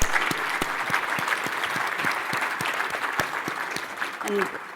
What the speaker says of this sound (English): I hope you'll give a round of applause to them for being here.